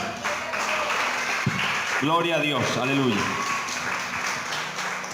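A church congregation claps for the Lord throughout, a steady wash of applause under loud, fervent shouted praise from a voice leading the service.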